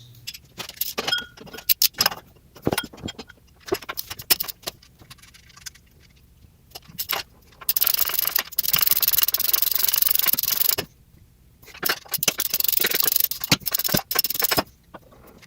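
Wrench and socket work on the 12mm mounting bolts of the AC compressor on a 2006-2011 Honda Civic, metallic rattles and clicks coming in bursts, with stretches of steady scraping and rubbing, close by and without talk.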